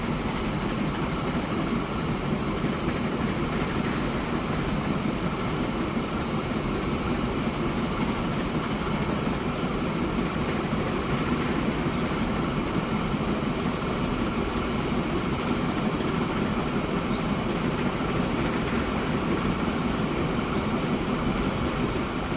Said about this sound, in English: let's just watch the journey of our brand new locomotive